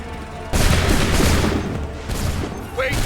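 A musket volley in Assassin's Creed III, a loud ragged burst of many muskets firing together that crackles on for a couple of seconds, followed by a second smaller burst and scattered shots.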